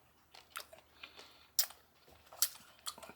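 Close crunching of freeze-dried chocolate-coated Skittles, a series of sharp crackly bites and chews in irregular bursts with quiet gaps between.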